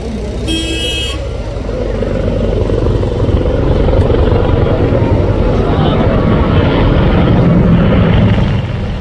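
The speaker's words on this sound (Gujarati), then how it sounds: "અને આ તમે હેલિકોપ્ટર જોઈ શકો છો અહીંયા." A helicopter flies over an air show crowd, producing a loud, continuous rumbling drone that fills the whole stretch, with voices mixed in the background.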